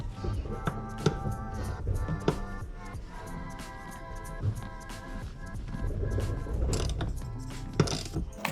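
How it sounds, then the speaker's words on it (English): A ratchet with an 18mm socket clicks repeatedly as it loosens the floor bolts of a Jeep JK seat frame, with irregular bursts of metallic ratcheting and knocks nearby and no talking. "Then remove the 4 bolts holding the seat frame to the floor of the vehicle with a 18mm socket."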